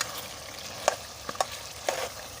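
Chopped tomatoes and chilies fry in a pot for chicken pulao, a soft steady sizzle with a few sharp scraping clicks as a spoon stirs the masala.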